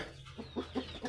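Many chickens in a crowded roost cluck in a quick series of soft, close clucks, about four pulses in a second over a low background hum.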